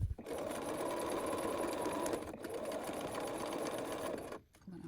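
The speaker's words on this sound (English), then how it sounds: "I am going to stitch a couple of stitches and then just go back to make sure that's secure" A sewing machine stitches scrap fabric for a zip bag, running in a steady, loud, fast hum that pauses briefly twice and then stops.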